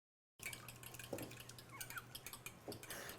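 A whisk beats an egg into buttermilk for biscuit dough, making faint, quick clinks and scrapes against the bowl that start suddenly after a moment of silence.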